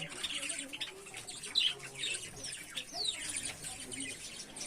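Many pet birds at a bird farm, including budgerigars, java sparrows and cockatiels, keep up a dense, continuous chorus of chirps and squawks at close range, with no talk over it.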